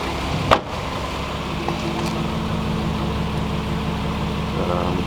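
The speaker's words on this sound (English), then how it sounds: "It's idling." A Lexus IS300 fitted with a new turbo engine idles steadily, a low even rumble with a faint rhythmic pulse, near and continuous, with a brief knock near the start.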